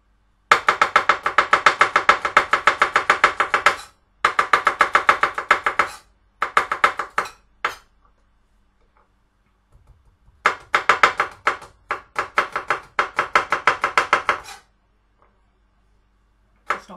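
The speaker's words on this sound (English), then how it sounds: "we're just going to chop this up." A knife chops chicken on a cutting board in quick, steady runs of sharp taps, loud and close, broken by short pauses, then slower, sparser chops near the end.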